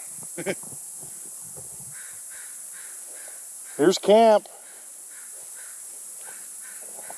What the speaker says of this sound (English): Got some noisy ravens yelling at me.